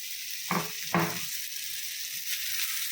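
Spices frying with fig (ডুমুর) in a pan, a steady close sizzle with two short scraping stirs near the start.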